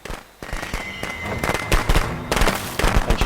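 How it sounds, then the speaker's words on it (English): Fireworks burst in rapid, crackling volleys in the Friday the 13th video game, a dense run of loud sharp pops and bangs after a brief quiet start, continuing through to the end. "she's left behind some nice fireworks"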